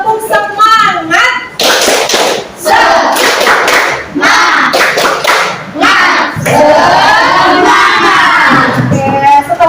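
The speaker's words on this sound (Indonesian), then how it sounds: "Ibu mau minta kalian tepuk semangat dulu, bisa?" Schoolchildren in an Indonesian classroom perform a spirit clap chant, shouting rhythmic words together between sharp bursts of unison clapping, loud and close.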